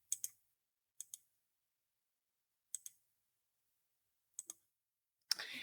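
A computer mouse clicks sharply in a quiet room in pairs, each a quick double tap, with irregular gaps between them, followed by a brief rustle at the end.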